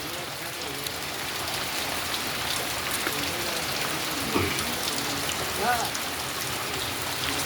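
Continuous rain falling in Pavthi village, Talaja, Bhavnagar, after six days of downpour: a dense, steady hiss of drops on surfaces fills the scene evenly, with faint distant sounds underneath and no clear speech.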